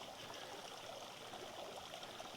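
Hot spring water spills constantly into a campground soaking pool at Gila Hot Springs, New Mexico, a faint, steady trickling and splashing wash with no voices.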